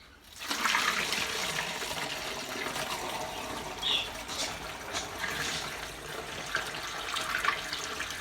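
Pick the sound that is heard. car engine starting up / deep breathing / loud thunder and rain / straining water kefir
straining water kefir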